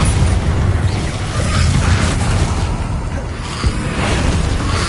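Bombarda explosion spell in Hogwarts Legacy, a loud, rumbling blast with a dense low-end roar and crackling debris filling the whole moment, heavy and close.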